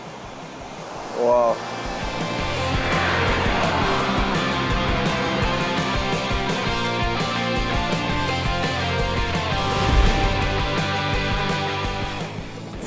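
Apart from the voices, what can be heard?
Dettifoss waterfall, most powerful in Europe, Iceland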